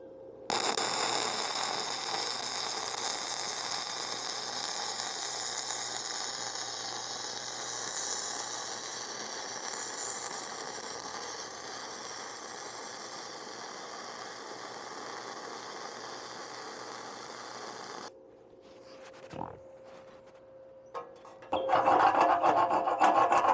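A hobby wire-feed welder lays its first bead on titanium with a steady crackling sizzle for about eighteen seconds. The arc then cuts out, followed by a brief clunk and another short burst of welding.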